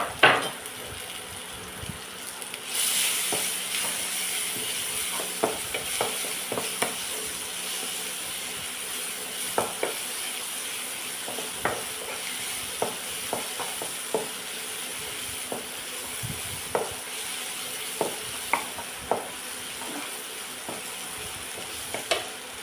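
Crushed ingredients fry in hot oil for a jackfruit dish, a soft continuous sizzle broken by regular scraping stirs and light utensil taps, moderately quiet and without speech.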